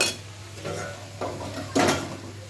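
A cooked dish of taro stolons and shrimp is tipped out of a pan, with a few brief metallic scrapes and clanks heard close by.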